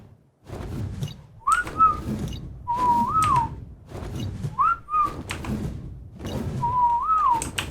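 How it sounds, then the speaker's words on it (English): Whistle commands in the video game ARK: Survival Evolved (Ragnarok map) sound as four short, clear melodic whistles, each rising and falling, spaced about a second apart over game noise and thuds. "Let's see, even if we do a group whistle."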